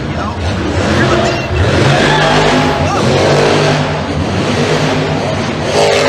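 Monster truck engines roar and rev continuously at the Monster Jam World Finals freestyle competition, loud and close throughout, with a crowd-like wash and voices mixed in underneath.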